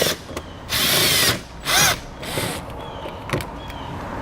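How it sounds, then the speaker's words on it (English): Power drill-driver with a T30 Torx socket backing out bolts in the fender well of a 2015 Ford C-Max, two loud whirring bursts close by, then lighter ratcheting clicks and brief motor spurts. "Next we'll remove the 2 Torx bolts located in our Fender well using a T30 socket."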